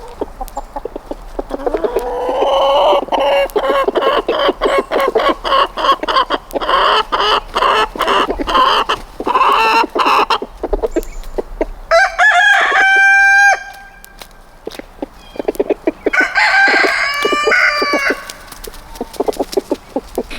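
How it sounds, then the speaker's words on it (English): A flock of backyard homestead chickens clucks and squawks in agitation over a frog one has caught, steady and close, with a rooster crowing loudly partway through and again near the end. "They're all freaking out because this chicken got a hold of something"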